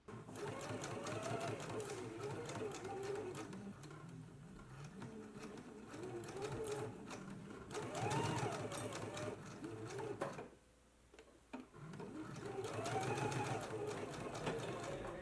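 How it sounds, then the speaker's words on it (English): A sewing machine stitches along the seam line of a dress in bursts of rapid mechanical whirring, stopping briefly in the middle before running again, with a voice talking faintly underneath. "now we can go ahead and stitch along the stitching line"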